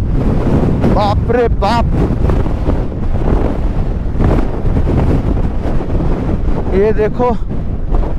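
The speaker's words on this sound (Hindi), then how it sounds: "भाई साहब कितना ही हवा चल रहा है देख रहे हो" Strong wind buffets an outdoor microphone with a constant loud roar through the whole stretch, while a man exclaims over it at a few points.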